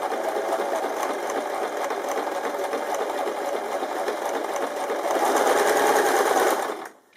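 A sewing machine fitted with a bias binding foot stitches bias binding in a steady, continuous mechanical whir that grows slightly louder near the end before stopping abruptly.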